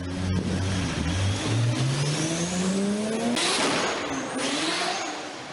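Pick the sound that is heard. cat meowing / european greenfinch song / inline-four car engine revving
inline-four car engine revving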